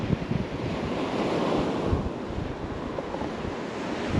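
Ocean surf rolls onto a beach in Vietnam beside a lagoon-like inlet, a steady wash of waves with wind rumbling against the microphone, moderately loud and without talk.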